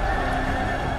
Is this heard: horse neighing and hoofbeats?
yes